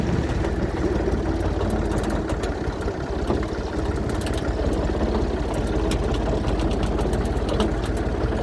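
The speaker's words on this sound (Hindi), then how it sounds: "अभी भाई साहब ट्रैक्टर चला रहे हैं और तीसरा गियर लगा रहे हैं" A tractor engine runs steadily in third gear on a farm, heard close up from a seat on the plough hitched behind it, a loud continuous low rumble with rattling throughout and no speech.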